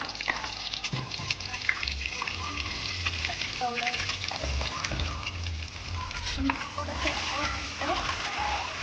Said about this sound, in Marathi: फ्राय करून घेऊ अंड्याला